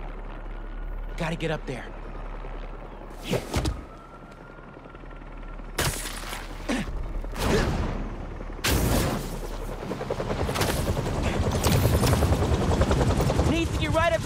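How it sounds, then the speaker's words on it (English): Helicopter rotor blades thump steadily in the Spider-Man 2 video game, growing louder over the clip and mixed with bursts of gunfire and explosions while a voice speaks over the action. "Just need a low frequency boost. With a pulse. Something like... a helicopter's blades."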